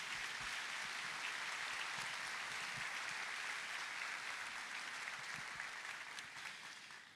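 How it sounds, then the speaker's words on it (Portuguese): Audience applause for pastor Pedro Pamplona at a church gathering, a steady dense clapping from a full room that holds evenly for about seven seconds before easing slightly at the end, with no voices over it. "Uma série de palmas para o pastor Pedro."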